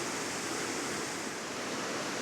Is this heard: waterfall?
yes